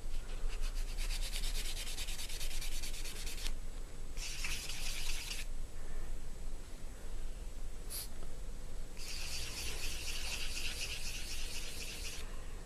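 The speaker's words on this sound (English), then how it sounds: "I'm going to get on with buffing my nails" Fingernails rubbed with a nail buffer, a dry scratchy swishing that comes in several bursts of quick strokes with short pauses between, close and fairly steady in level.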